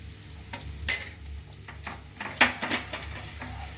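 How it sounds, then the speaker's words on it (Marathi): A spoon stirs turmeric and curry leaves in a hot pan for mirchi vada filling, giving scattered scrapes and clinks against the metal over a low sizzle, close and moderately quiet, with no talking. "हळद थोडी परतून घेऊया."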